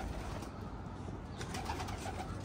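Faint, low cooing from kept pigeons or doves in a loft, soft rolling calls over steady background noise, with no voices.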